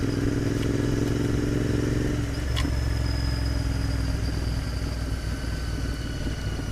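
Royal Enfield Interceptor 650 motorcycle on a test ride, its engine running steadily with a continuous low rumble and constant road and wind noise, near and loud, with a brief clatter partway through.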